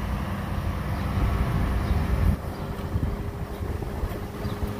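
A 2008 Ford Crown Victoria P71 Police Interceptor with a 4.6 liter V8 idles steadily outdoors, a low continuous engine rumble with wind buffeting the microphone throughout.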